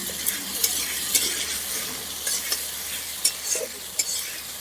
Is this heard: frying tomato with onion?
yes